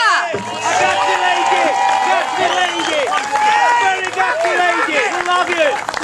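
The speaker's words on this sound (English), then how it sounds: "Please, can you give a round of applause to Ms." Loud crowd at a PEGIDA rally in Canberra claps and cheers steadily, with shouts and voices mixed through the applause from start to finish.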